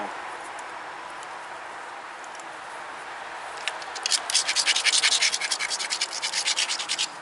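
A friction fit flaker is sharpened on a grinding stone. Soft rubbing opens the stretch, then quick, gritty scraping strokes follow in a steady, close-up rhythm.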